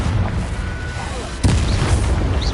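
A Confringo spell explosion in Hogwarts Legacy, one sharp booming burst about halfway through, cutting in over a low rumbling background.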